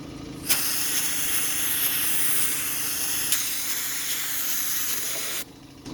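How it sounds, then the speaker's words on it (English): A sandblaster blasts spray foam out of a wooden table leg, a loud continuous hissing spray starting abruptly and running for about five seconds before cutting off. "So we're gonna sandblast it."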